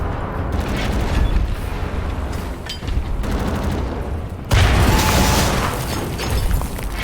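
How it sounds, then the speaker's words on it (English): Heavy gunfire and booming blasts in Wolfenstein The New Order, loud continuous rattling bursts and thuds, with one stronger explosive hit midway. "I think I have to throw a grenade here"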